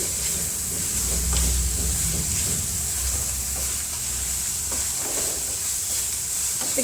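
Palak paneer stuffing with coriander stirred in a hot pan on a gas stove, a steady frying hiss with soft scraping of the spoon throughout, close and continuous.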